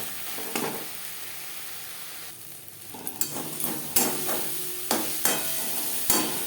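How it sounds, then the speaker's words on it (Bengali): Tomato, onion and spices are stirred and mashed in a frying pan: soft sizzling under repeated scraping knocks and taps from a spoon, close by, with no talk. "মশলা ও পেঁয়াজের সাথে লবণ হলুদ বেশ ভালো করে মিক্সড করে দেব টমেটো ম্যাশ করে দেবো"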